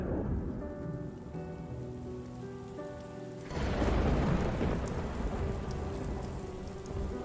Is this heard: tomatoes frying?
no